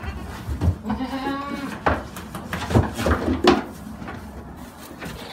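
Goats on a farm bleat near and loud, one long wavering cry followed by several shorter calls, with clunks and shuffling around them.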